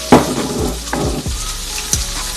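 Low carb chicken sizzles and pops in avocado oil in a pan, a steady close frying hiss broken by a few sharp crackles and spatters, with no talk.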